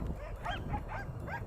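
A pack of hounds trained for boar hunting bark and yip excitedly in a rapid, overlapping chorus, several dogs close by and loud throughout a short burst of chase noise.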